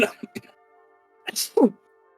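A single sharp sneeze bursts out after a few scattered voice sounds, followed by a brief quiet pause.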